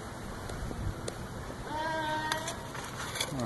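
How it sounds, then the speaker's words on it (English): Goats bleat loudly near an outdoor beekeeping setup. Several drawn-out calls come in overlapping bursts from close by, over a background hum. "Loud goats are loud."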